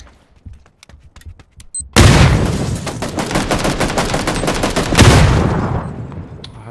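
Close, loud gunfire rings out in PUBG after a few faint clicks. A dense volley of rapid cracking shots runs for several seconds, surges again toward the end, then tails off.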